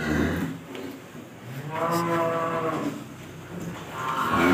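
Newly arrived young cattle mooing at a farm, several long loud lowing calls in succession, close by, with faint background voices.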